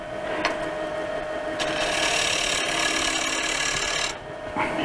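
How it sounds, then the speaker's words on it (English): A wood-turning tool takes a very small, light cut on a lathe, giving a steady, even rasping scrape that runs for about four seconds and then eases off briefly near the end. "all I'm doing is I'm presenting the tool to the material and just very, very quietly taking a very small cut and pushing it down"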